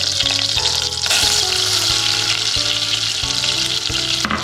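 Sugar hits melted butter in a pan and sizzles loudly and steadily, a dense frying hiss running the whole time with a low periodic hum beneath it and no voices.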